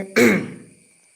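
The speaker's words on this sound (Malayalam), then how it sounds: "ചുമയാണ്" One short, close cough or throat clear, heavy and abrupt, fading quickly into quiet, from a person with a sore throat and cough.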